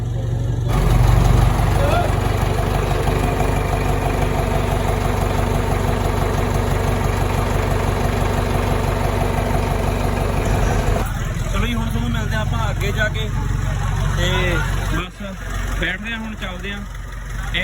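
A tractor engine idles with a steady low rumble throughout, continuing under louder clatter and voices in the second half, recorded at a Fatehgarh Sahib gathering.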